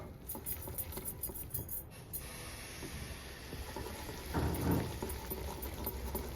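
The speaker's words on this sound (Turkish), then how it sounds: "Kek kıvamından bir tık katı oluyor hanımlar. Şöyle iyice karıştırıyorum." Pancake batter being stirred in a bowl, a steady soft wet scraping and sloshing that runs continuously, with a brief louder burst of mixing near the end.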